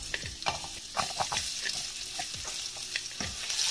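Onions sizzle and crackle as they fry in hot oil in a pan for a lasagne, with a steady hiss and scattered pops, close and moderately loud, no voices.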